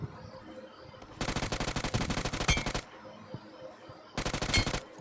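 Two bursts of rapid automatic gunfire in the BGMI video game, a long volley then a shorter one after a pause, close and sharp.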